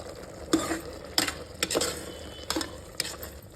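Mushrooms fry in a pan for a spicy mushroom biryani, with a steady soft sizzle broken by about five sharp scraping clatters of a spoon stirring against the metal.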